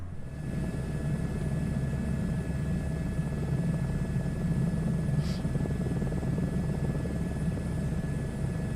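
Steady, continuous helicopter rotor drone from a flight simulator video game, a low thrumming engine bed that holds at constant loudness throughout, with a faint brief whoosh midway.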